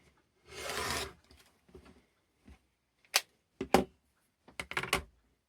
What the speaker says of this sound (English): I will cut a strip from the end here